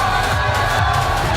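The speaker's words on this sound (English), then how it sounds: "What a ruckus crowd" A rowdy crowd at a wrestling show roars and cheers loudly and continuously, a dense wash of many voices close around.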